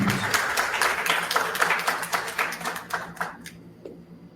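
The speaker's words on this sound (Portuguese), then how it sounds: "Olha, aplaude, gente." A small audience at an academic talk applauds in a short burst of moderately loud clapping that fades out after about three seconds, leaving a quieter room.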